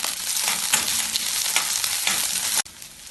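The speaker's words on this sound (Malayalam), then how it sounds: "5 വെളുത്തുള്ളി മുറിച്ചതും 2 പച്ചമുളക് മുറിച്ചതും കുറച്ച് കറിവേപ്പില ഇട്ട് വഴറ്റാം" Garlic, green chili and curry leaves sauté in a pan for a kohlrabi curry, giving a steady close sizzle with stirring scrapes that cuts off abruptly near the end.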